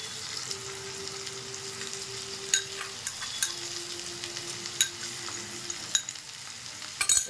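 Ground spice paste with turmeric and cumin frying in a pan for an egg, potato and capsicum curry, a steady soft sizzle broken by intermittent stirring scrapes, with a faint steady tone running underneath.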